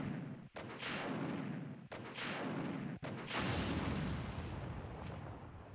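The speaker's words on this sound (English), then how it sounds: "Ooh, new explosion effects." Explosion effects from the Resident Evil 2 video game: a series of deep, loud booms with rolling rumble, three sharp blasts in quick succession followed by a sustained roar.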